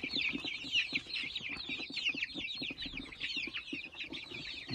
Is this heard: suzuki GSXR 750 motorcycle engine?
no